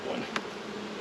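Bees buzzing steadily around a beehive, a continuous low insect drone close by, with one brief sharp sound partway through.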